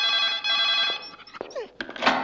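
An old telephone bell rings indoors with a sustained metallic trill that breaks off, followed by thumps and clatter as the receiver is handled.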